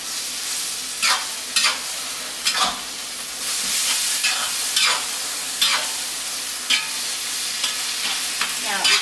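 Pad thai with tamarind sauce sizzles steadily in a pan, with a spatula scraping and stirring at irregular intervals over the constant frying hiss, close and loud.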